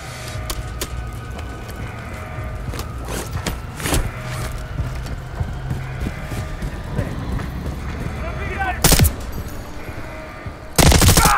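Gunfire rings out from a bridge during a Call of Duty: Modern Warfare 3 mission, with scattered sharp shots and short automatic bursts amid battle ambience, two louder close blasts near the end, and radio voices talking throughout.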